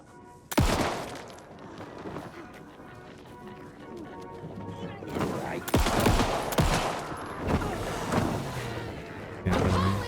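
Gunfire in the video game Alan Wake 2, a few sharp, loud shots at irregular intervals with footsteps and game action between them, close and punchy, no talking.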